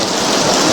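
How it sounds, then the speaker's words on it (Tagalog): Heavy rain pours down in a loud, dense, unbroken roar, close and steady with no voices over it. "Lakas na ng ulan po dito."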